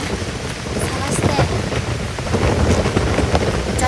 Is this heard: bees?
no